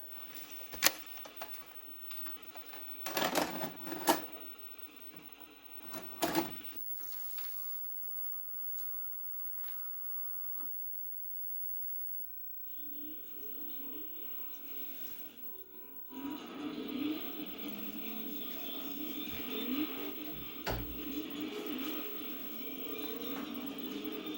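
Vintage VCR mechanism loading and starting a tape: a run of close mechanical clicks, clunks and whirring, a quiet gap, then a steady motor hum and hiss as playback begins.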